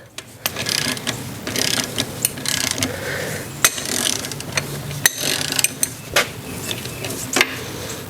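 Metallic clicks, clanks and ratcheting come from tools removing a bolt during work on an XR150 motorcycle, heard as irregular close bursts of mechanical activity with no talking.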